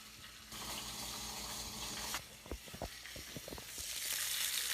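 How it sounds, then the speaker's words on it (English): Bacon strips sizzle and crackle in a frying pan on a home stove, a steady bright hiss with scattered pops and spits that swells louder partway through, with no talking over it. "Oh, look at that bacon sizzle."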